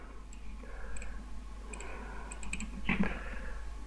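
Computer keyboard keys are pressed, a Ctrl+Enter shortcut, as a few light clicks close by with a sharper double tap near the end, over a low steady hum.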